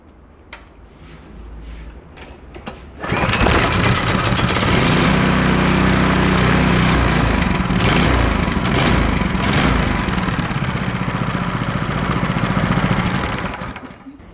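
A small gasoline engine, a 6.5 HP Tasawa Professional Series pull-start unit, sputters to life after a few seconds, then runs loudly and steadily with a buzzing, rattling drone until the end.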